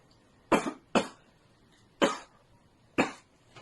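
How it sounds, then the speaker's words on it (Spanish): Four forceful coughs from a patient during a pelvic floor examination, sharp separate bursts with short pauses between them, close and clear in a quiet room. "¿Puede toser, por favor?"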